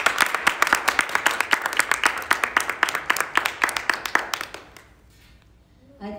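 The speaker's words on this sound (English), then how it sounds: "Please give a big round of applause to the" Applause from a concert audience, a steady run of distinct claps from a small group for about four and a half seconds, thinning out and fading to near silence, with a brief noise at the end.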